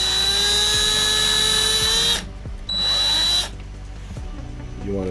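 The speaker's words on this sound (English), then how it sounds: "that same drill bit or pin vise, whatever you used earlier to drill your holes for pinning" A drill bit bores pinning holes in a miniature, a loud, close, steady high-pitched whine that cuts out twice in short gaps before starting again.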